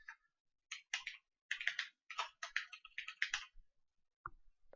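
Tags are typed on a computer keyboard in quick bursts of crisp clicks separated by short pauses, close and clear with no talking.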